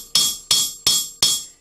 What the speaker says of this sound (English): this little Estwing ball peen hammer is my favorite for balance